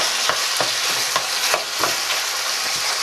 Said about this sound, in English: I love a good sizzle.